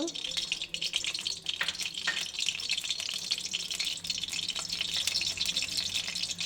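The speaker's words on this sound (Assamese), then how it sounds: "এয়া আমি কেৰাহী গৰম হ'ব দিছোঁ। এইবাৰ আমি তেল 3 চামুচ দি দিছোঁ। গৰম হ'ব।" About three spoons of oil heat and sizzle in a wok for a fish and tomato curry, a steady close hiss with scattered crackles and light talk nearby.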